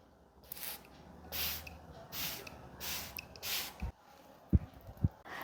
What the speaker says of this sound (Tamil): இது ஜஸ்ட் ஒரு ஸ்ப்ரே மட்டும் பண்ணால் போதும்